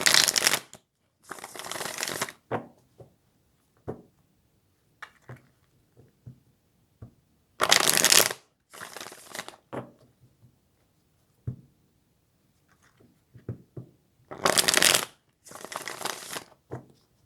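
Tarot cards shuffled in several bursts, sharp riffling rustles and flutters close by, separated by quiet gaps with small taps and handling noises.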